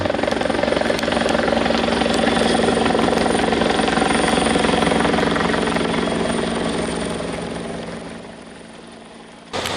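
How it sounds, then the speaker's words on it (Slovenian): A Slovenian Army military helicopter's rotor thumps steadily and loudly throughout a military police exercise, a dense continuous roar that holds level and then fades slightly near the end. "Helikopter Slovenske vojske je še vedno v bližini in je pripravljen na kakršnokoli pomoč."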